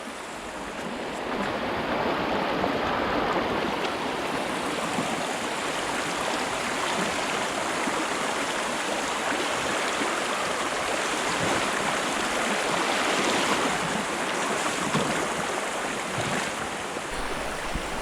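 River water rushing past near old mill ruins, a continuous dense broadband wash that is loud and close, steady for the whole stretch with no voices.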